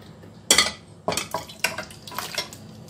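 Metal kadhai (wok) handled and swapped on the stove while white chicken khurma cooks, a series of sharp close clanks and scrapes, four or five distinct knocks in quick uneven succession.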